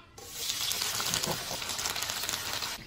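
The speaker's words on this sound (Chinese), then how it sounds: "油热以后下入大虾" Shrimp dropped into hot oil in a wok set off a steady, bright sizzle that starts abruptly and holds evenly at close range, with no talking.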